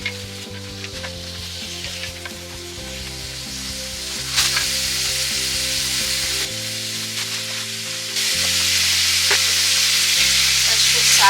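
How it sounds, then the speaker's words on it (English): Sausage sizzling in olive oil in a cast iron skillet, a loud close hiss that swells in steps as pieces go in, over a low tonal background hum, with no one speaking. "So I'm gonna put our sausage now"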